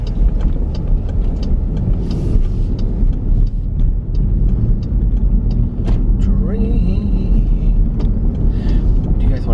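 Steady low road rumble and engine drone fill a car cabin on the move, loud and continuous throughout, with occasional faint clicks and rattles above it.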